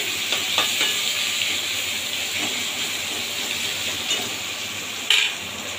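Fish curry with tomato and green chilies being stirred in a pan, a steady steamy sizzle and hiss running throughout with faint utensil scrapes and a brief louder clink near the end.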